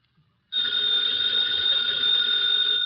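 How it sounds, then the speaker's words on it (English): A telephone bell rings continuously and loudly, a steady bright trill starting after a brief silence and holding without pause. "that phone bell means adventure"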